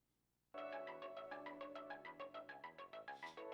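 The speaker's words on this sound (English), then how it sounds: "That was my alarm going off on my phone." A phone alarm set to play music goes off abruptly after a short silence, a bright, loud ringtone-like melody with a pulsing rhythm that keeps sounding to the end.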